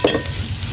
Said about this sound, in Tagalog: So, just mix. Combine the all ingredients.